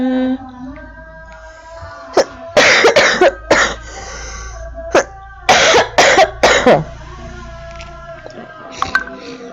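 Several loud coughs in bursts, a couple of single coughs then clustered fits, close by, with a low hum and faint tones underneath.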